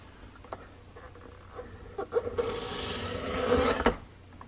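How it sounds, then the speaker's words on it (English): A paper trimmer slicing through paper on a craft table: a quiet, close, rasping cut that swells over about a second and a half, with faint handling noises before it. "put this in my paper trimmer. And I'm going to trim this top off here"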